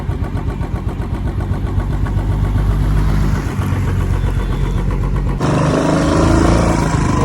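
A car engine labors up a hairpin bend on the road to Ooty, a loud steady drone that shifts in pitch partway through as the vehicle climbs.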